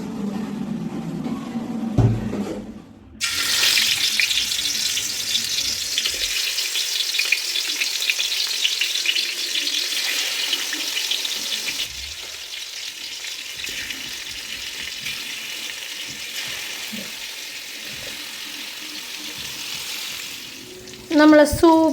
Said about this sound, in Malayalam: നമ്മളെ ചിക്കനിൽ നമുക്ക് പൊരിക്കേണ്ട പീസ് ഇതിൻ്റെ അകത്തേക്ക് ഇട്ട് കൊടുക്കാം.